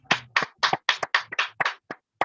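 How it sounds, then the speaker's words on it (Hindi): Applause from a small audience at a direct-selling marketing talk, about nine sharp separate hand claps in an uneven rhythm over two seconds, close and clear with no talk over them. "आरसीएम के लिए जोरदार ताली होना चाहिए।"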